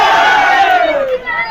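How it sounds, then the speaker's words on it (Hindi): A large village crowd in Bihar shouts and cheers together, a loud, dense wall of voices close by that holds steady and then eases slightly toward the end. "बिल्कुल जी ये देखिए कितना ज्यादा भीड़ है"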